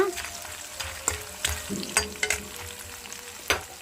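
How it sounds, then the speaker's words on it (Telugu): Onions fry in a pan, a steady crackling sizzle broken by several sharp clinks and scrapes from stirring, close and moderately loud, no speech. "ఆనియన్స్ అయితే ఫ్రై అయినాయి కదా"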